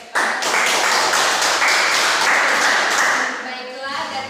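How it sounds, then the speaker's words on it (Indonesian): A classroom audience applauds a presenting group during a micro-teaching lesson for fifth graders: dense, moderately loud clapping from many hands for about three seconds, fading out as a voice begins. "mari kita berikan aplaus kepada"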